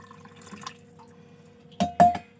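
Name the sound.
hot water poured into a container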